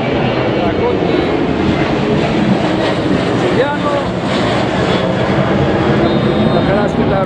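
An airplane passes overhead during a youth football match, its engine drone a loud, continuous roar throughout, with a commentator talking over it.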